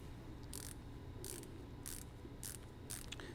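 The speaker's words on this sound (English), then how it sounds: "If you are using the screwdriver in the ratchet mode, try to avoid torquing." A ratchet screwdriver drives a screw during surgical fixation of a calcaneal fracture, giving five evenly spaced bursts of quick ratcheting clicks over a steady low background hum, with no talk.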